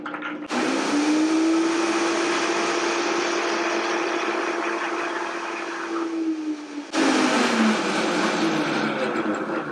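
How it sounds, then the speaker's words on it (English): A food processor whirs loudly as it blends cashew sauce, running steadily for several seconds, dipping briefly, then starting up again at full power. "And blend until it turns out like this."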